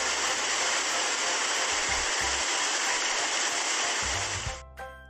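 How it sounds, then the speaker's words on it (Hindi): Falling water of a waterfall, a dense continuous rushing hiss that stays loud and even before cutting off near the end, with no talk over it. "ये तो पानी गिरने की आवाज है."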